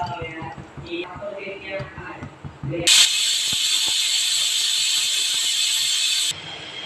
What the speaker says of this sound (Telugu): ఇప్పుడు మనం 3 విజిల్స్ అనేది పెట్టుకుందాం.